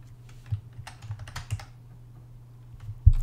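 Keys clacking on a keyboard in a steady, quiet run of taps with a few louder strikes, over a low room hum and with no voices.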